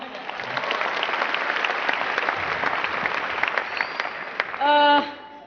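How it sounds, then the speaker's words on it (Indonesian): Audience applause at a business seminar honouring the event committee, steady dense clapping from a large crowd throughout, with a brief tonal sound near the end. "Mohon aplaus untuk semua panitia"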